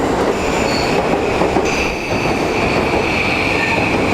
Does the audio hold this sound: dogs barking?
no